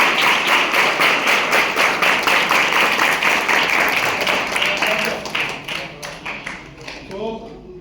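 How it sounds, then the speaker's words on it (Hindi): Children in a sixth-grade class at a school for visually impaired students clapping together, a dense, steady burst of applause close by that thins out and fades over several seconds, with some voices near the end. "ताली हो जाओ"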